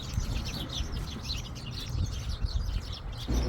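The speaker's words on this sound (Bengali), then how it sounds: "পাখি ডাকতেছে কত সুন্দর" Birds chirping steadily in a tree-lined park, several small calls overlapping over a low rumbling background of wind or distant traffic.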